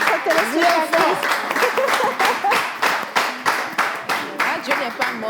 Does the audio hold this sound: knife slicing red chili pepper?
no